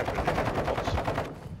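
Sustained automatic gunfire in the DMZ video game, a dense rapid rattle of shots that is loud and continuous before cutting off near the end.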